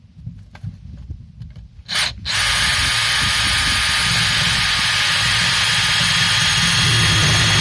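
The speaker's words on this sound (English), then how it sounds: "Let's drill that through and then vacuum it out and get going." A power drill bores through a 4x2 timber during a shed build, loud and steady after a brief quiet start, with a raspy, broadband grinding that holds through to the end.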